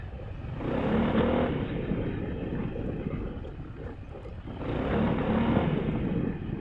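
Engine of a 2021 Sym Maxsym 400 scooter, with traction control reining it in, swells in two broad pulses of steady drone, rising near and loud, easing off, then surging again.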